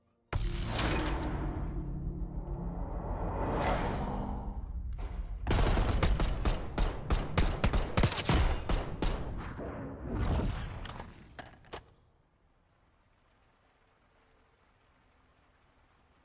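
Gunfire in a competitive team shooter esports match, with rapid bursts of shots in the middle section, heavier and denser sounds before and between them, and then a sudden drop to quiet game ambience.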